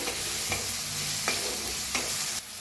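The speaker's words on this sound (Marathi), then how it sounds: "एक थोडस हिंग आता भाजून घेऊया" Chopped onion, green chilli and asafoetida fry in a pan with a constant close sizzle, and a few stirring scrapes come at regular intervals. Nobody speaks.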